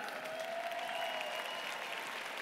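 Faint, steady applause from a conference audience standing and clapping their hands, a soft continuous patter of many hands with a thin tonal whistle running beneath it.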